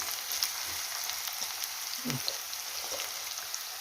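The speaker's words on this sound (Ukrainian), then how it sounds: "Я не буду сильно потушувати цибулю, морку, так, трошечки лишень" Onion and carrot gently frying in a pan, a steady soft sizzle with faint crackles throughout, fairly quiet and with no talking.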